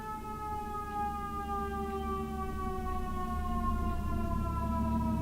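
A city emergency siren from an ambulance or fire truck wails steadily over about five seconds, its rising and falling tone holding moderately loud and distant over low traffic rumble, with no talking.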